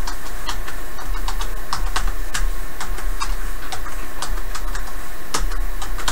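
Rapid, steady clicking of keys on a computer keyboard while an email is typed, close and continuous, with irregular key taps and no talking over it.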